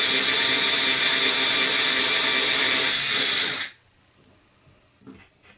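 A power drill whines steadily at high speed boring a hole through a small wooden doll part for several seconds, then cuts off abruptly, leaving near silence with a couple of faint knocks.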